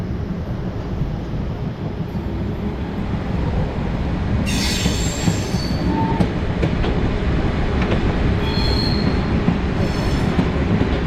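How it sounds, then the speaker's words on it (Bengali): The Ruposhi Bangla Express rumbles steadily past on the rails, loud and close, with a continuous broadband roar and brief high metallic wheel squeals partway through. "আর ঠিক এক বছর পর এই রোড দিয়ে ট্রেন যাচ্ছে"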